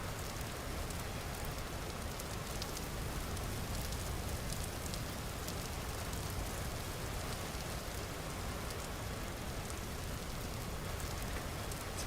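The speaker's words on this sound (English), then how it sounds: "raining again, but never mind." Steady rain falls in the video game Vintage Story, a dense, even hiss of drops spread across the whole stretch, constant and fairly close with no voices over it.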